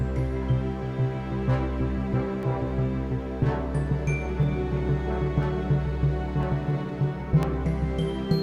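A layered synth pad holds sustained chords over a deep, steady bass, with soft plucked accents drifting in and out; continuous and moderately loud, no voices.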